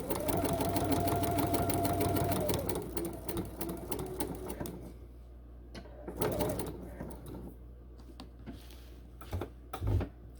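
A sewing machine fitted with a Bernina edgestitching foot 12c runs steadily in a loud, close, continuous stitching whir for about three seconds, then slows into softer, intermittent bursts and clicks as it works past a bulky seam.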